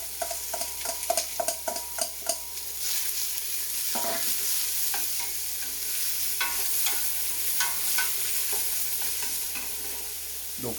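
Onions sweat in fat in a hot pan, giving a continuous close sizzle broken by scraping stirring strokes, with no voices.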